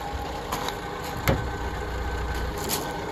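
A Lanchester LD10 Barker Saloon classic car engine with a new carburetor idles steadily with a low, even rumble, joined by a brief knock partway through.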